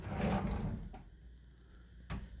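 Deep hotel room drawers at a Great Wolf Lodge slide open and shut with a loud wooden rumble, followed by two sharp knocks, close by in a quiet room.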